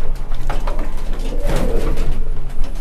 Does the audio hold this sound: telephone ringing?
no